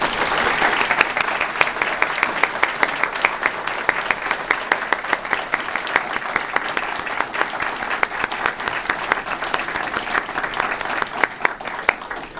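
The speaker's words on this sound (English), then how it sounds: "please join me in giving a very well-deserved round of applause to our awardees" A large audience at an Army awards ceremony gives sustained, dense applause that stays loud and steady the whole way through, a continuous wash of many hands clapping.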